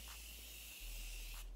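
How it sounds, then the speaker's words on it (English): Morphe continuous setting mist is sprayed as one long, steady hiss up close, quiet and alone. "I will set it with the Morphe continuous setting mist."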